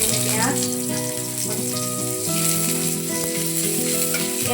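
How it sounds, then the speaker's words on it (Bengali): Onions fry in hot oil in a pan after black cumin seeds are tempered, a loud, steady sizzle and crackle heard up close with occasional stirring scrapes and no talking. "পেঁয়াজগুলো লাল লাল করে ভাজা।"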